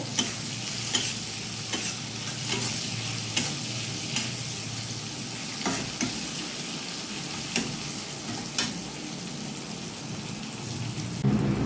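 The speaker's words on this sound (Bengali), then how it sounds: "পেঁয়াজটা ভালো করে ভেজে নেব।" Onions frying in a pan for a prawn curry, a steady dense sizzle with occasional stirring clicks and scrapes, close and even throughout, no voices.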